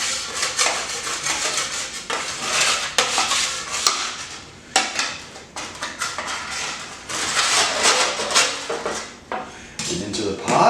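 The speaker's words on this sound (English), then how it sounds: "Getting all the good brown bits off the pan as well." A metal utensil scrapes and stirs against a pan to lift browned bits while making stock, giving loud, close, irregular clatters and rasping strokes that continue throughout.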